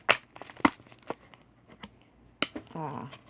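Plastic bottle being cut close up, a few sharp snips and crackling clicks spaced apart, followed by a brief voice at the end.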